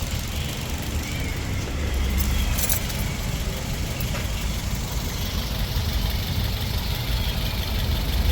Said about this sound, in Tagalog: Tahimik yung makina.